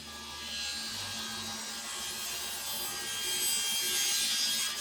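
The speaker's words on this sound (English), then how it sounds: "This time I'm using a scraper before I do the sanding." A hand scraper cleans up a saw cut on solid wood for a night table, giving a soft, continuous scraping rasp at close range that swells slightly toward the end, with faint background hum and no voices.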